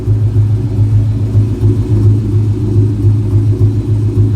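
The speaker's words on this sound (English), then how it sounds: "you guys listen to the exhaust." A Ford SVT Cobra Terminator idles with a deep, steady exhaust rumble, even and sustained with no revving, loud and close.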